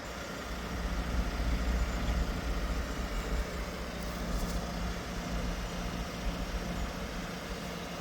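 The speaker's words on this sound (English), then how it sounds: "so engine idling" A 2.2 Skyactiv diesel engine in a Mazda CX-5 with a blocked DPF idles steadily, a continuous low rumble at even volume throughout, with no speech.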